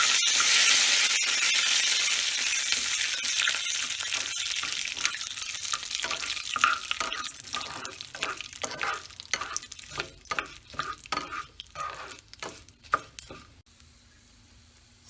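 Curry leaves for a tempering for ven pongal and chutney crackling in hot oil, starting as a loud hiss that fades into a run of rapid pops and spits before stopping abruptly near the end.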